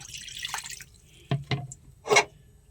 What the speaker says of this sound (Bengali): তো বন্ধুরা একটা কড়া বসিয়ে নিয়েছি, এবার আমি জল দিয়ে দেবো অল্প করে।